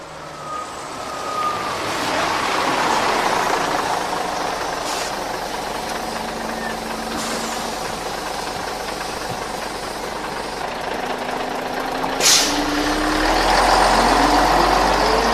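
Bus engine idling with a low steady rumble, a sharp hiss of an air brake release and a later burst near the end, layered as a radio drama effect for a night bus departure.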